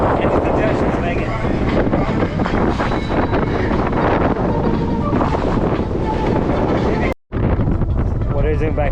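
Strong wind buffets a rented boat heading into the wind off Greece, a loud steady roar of wind noise with water splashing, broken by a brief dropout near the end.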